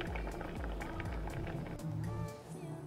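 Quinoa boils in a pot of water, a faint, continuous bubbling with rapid small pops and gurgles, close and quiet, with no voices.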